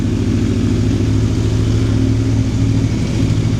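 An Aprilia Tuono V4 Factory motorcycle with an Akrapovic exhaust runs loud and close, its deep throbbing engine note held steady with a rough, pulsing burble throughout.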